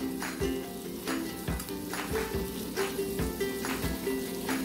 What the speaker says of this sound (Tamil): இதெல்லாம் மிக்ஸ் பண்ணி ஒரு 2 நிமிஷம் வரைக்கும் வந்து வதங்கட்டும்.